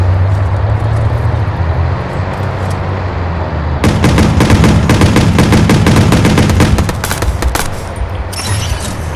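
Rapid automatic gunfire from a gun in Watch Dogs bursts out loud and close for about three seconds over a steady background hum of city traffic.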